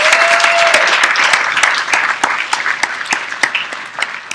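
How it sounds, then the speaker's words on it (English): Loud, dense audience applause with sharp individual claps standing out, sustained throughout and thinning slightly toward the end, at a church-style session gathering. "give me a round of applause"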